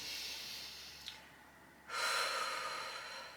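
A deep breath drawn in through the nose during a guided breathing exercise: a soft airy inhale, a brief pause, then a louder, fuller rush of breath, close and quiet with no talk.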